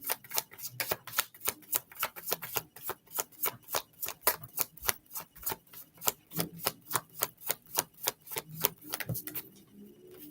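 Tarot cards being shuffled and drawn from the deck: a long run of crisp, evenly spaced flicks and snaps at a brisk steady rhythm, close and fairly quiet, with no talking.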